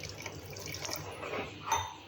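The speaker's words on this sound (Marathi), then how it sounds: "या पिठामध्ये मी थोडेसे पाणी ओतून घेणार आहे" Soft trickle and splashing of water being poured into mixed lentil batter, fairly quiet and close, without any talking.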